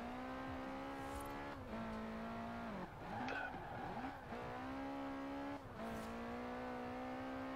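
Car engine droning steadily in Forza Horizon 4, a sustained hum that dips briefly as the car shifts or slows, with scattered tire squeals and skids mid-way, loud and close with no talking.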